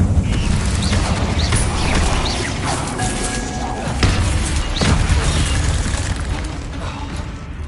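Incendio fire spell cast in the video game Hogwarts Legacy, a busy run of booming, crackling magical bursts with several sharp impacts layered over a dense, steady game background.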